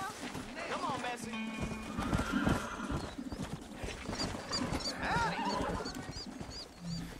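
A horse neighs and whinnies repeatedly in the Red Dead Redemption video game, with hooves clip-clopping and game ambience beneath, loud and close.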